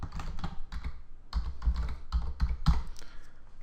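Someone types on a computer keyboard while entering a new folder name, with close, clustered key clicks in quick irregular bursts and brief pauses between them.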